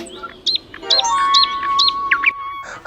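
A small cartoon bird in Bob the Builder chirps repeatedly in quick bright tweets, about half a dozen calls close by, with a faint steady tone behind them.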